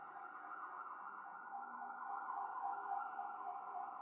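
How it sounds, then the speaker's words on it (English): A wailing ambulance siren from the video game Pokemon Infinite Fusion, a steady loud electronic tone that swells slightly and sounds alone, with no talking. "while we're waiting on the ambulance"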